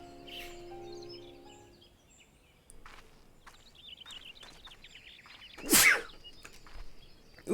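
A single short, sharp sneeze bursts out partway through quiet Final Fantasy XIV game ambience, set among faint chirps and soft effects.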